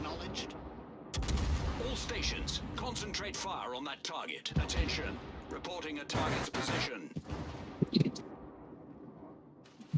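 Rapid gunfire from a multiplayer shooter match in a tournament game, bursts of shots and impacts running under continuous excited player voice chat.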